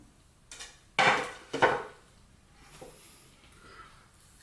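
A small metal pan is handled while burgers are weighed, giving two or three short clattering knocks close by, then quiet.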